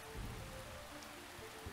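Steady, soft rain hisses continuously in the Distant Leaps to Circinus visual novel game, with a faint low rumble of thunder underneath, the storm heard as a dense, even wash with no voices.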